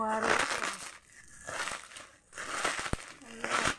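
Plastic packaging from an opened parcel crinkles and crackles in several bursts, close and busy, with voices talking between and over the rustling.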